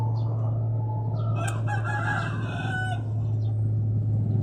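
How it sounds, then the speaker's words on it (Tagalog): A fighting rooster crows nearby over a steady low hum, its call rising and falling across a few seconds with faint clucking around it. "Manok pang sabong."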